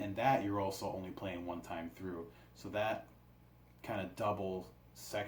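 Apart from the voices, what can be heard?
No everyday noises stand out.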